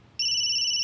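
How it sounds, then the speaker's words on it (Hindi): A phone starts ringing with an incoming video call, a sudden bright electronic tone that holds steady and clear after a brief quiet moment. "अनीश का वीडियो कॉल अचानक"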